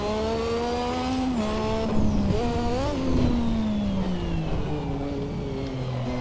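A Lotus 98T turbo Formula 1 car held near full revs on a heavy fuel load, its loud whining engine note rising and falling through gear changes, heard alone.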